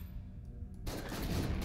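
Video game gunfire from Killing Room bursts in after a brief low rumble, a dense rapid fusillade of shots continuing loud to the end.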